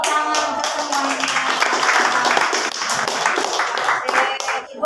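Secondary-school students in a classroom clap for everyone, a close, steady burst of many hands with voices mixed in throughout.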